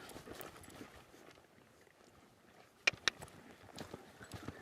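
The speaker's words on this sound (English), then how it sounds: "Let's lope this horse around a little bit this morning" A horse loping in an arena during a lead-changing lesson, its hoofbeats forming a steady rhythmic clip-clop at moderate distance, with two sharp louder knocks near the middle and faint background noise.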